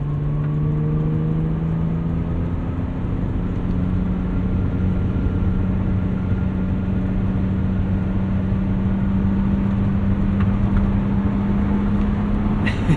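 A 1999 BMW Z3 M Roadster drives along a road, its engine holding a steady droning hum with a constant tonal whine and road roar, loud and close throughout with no talking.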